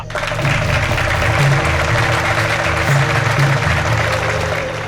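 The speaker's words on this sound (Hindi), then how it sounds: "अच्छा लगे तो ताली बजाना, और पसंद ना आए तो जोरदार ताली बजाना, लेकिन ताली जरूर बजाना" An audience at a staged show applauds steadily for nearly five seconds. The hand claps keep a constant, fairly loud level beneath a thumping, droning music backing, with no speech.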